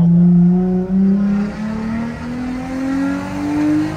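A Jeep Gladiator Rubicon's six-cylinder Pentastar engine revs steadily nearby, its low droning note climbing gradually in pitch over a few seconds with no voices.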